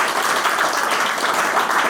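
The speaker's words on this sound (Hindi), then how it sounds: "एक बार पुनः जोरदार तालियां बजाइए।" Sustained, dense applause from an audience at a yoga center in Sultanpur, New Delhi, steady and fairly loud for the whole stretch with no pauses.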